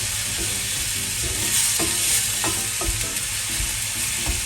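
Sliced onions frying with salt in a hot pan for a coconut-free theeyal, giving a loud, continuous close sizzle with a few scraping stirs, no voices.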